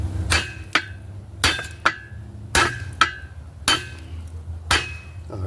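Steel hammer strikes on the front lower ball joint of a 2009 Dodge Journey, about eight sharp metallic blows at a steady, slightly uneven pace, close up with no talking.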